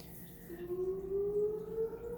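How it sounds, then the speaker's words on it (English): A distant tornado siren during its routine first-Monday test, with a slowly rising steady wail, heard faintly over a quiet background. "So you might hear the tornado sirens going off."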